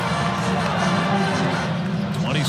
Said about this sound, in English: Immediate reaction from the crowd here at the Dean Dome.